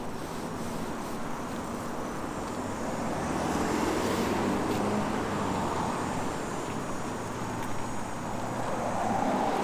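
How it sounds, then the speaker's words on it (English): Cars pass along a roadside in a continuous wash of traffic noise, swelling as vehicles approach and recede, with no one talking. "Do I ever get sick of the sound of passing cars?"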